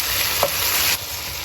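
Bok choy stir-fry is stirred in a hot pan, giving a steady loud sizzle with a brief scrape of the utensil partway through and no talking.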